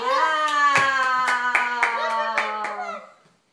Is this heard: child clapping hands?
yes